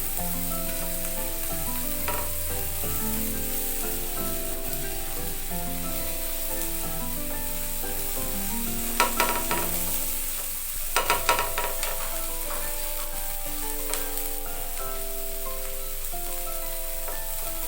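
Keto burger patties fry in a hot pan with a steady, dense sizzle and crackle that runs unbroken the whole time. A few brief clinks and scrapes sound from a utensil partway through, and no one talks.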